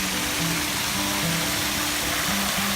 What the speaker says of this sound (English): Then we found the first of 3 waterfalls.